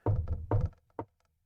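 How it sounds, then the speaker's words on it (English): A few heavy knocks on a wooden door, close and loud: two grouped thumps, a pause, then one more single knock, with no talking. "You hear another knock on the door."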